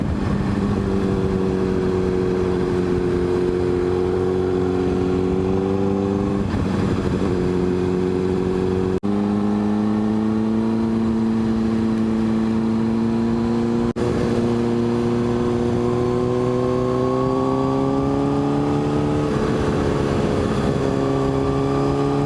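A motorcycle rides along a mountain road in South Carolina, its engine droning steadily with clear harmonic tones that rise and fall as it shifts and revs, loud and continuous with wind noise and no talk.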